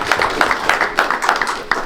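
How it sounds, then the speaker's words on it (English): Applause from an audience at a boxing and combat sports health and wellness expo, as a speaker is thanked; irregular claps with sharp peaks run through the short stretch at moderate loudness. "Let's get another round of applause for Josh."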